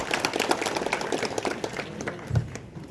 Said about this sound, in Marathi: आपण स्वतःसाठी टाळ्या वाजवल्या पाहिजे